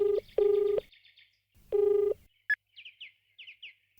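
A telephone ringing for an incoming call, two loud electronic ring bursts close by with gaps between, followed by a few short faint chirping tones.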